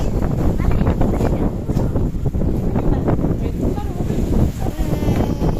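Gusty wind buffeting the microphone in a low rumble at sea near a marine park, with people talking over it outdoors.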